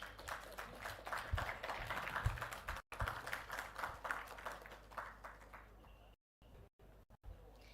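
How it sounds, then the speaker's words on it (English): An audience applauds panelists at an organic agriculture panel discussion with a dense patter of clapping that fades after a few seconds into near silence. The applause is quiet and distant. "Dr. Prashant Naikwadi, a big round of applause, please"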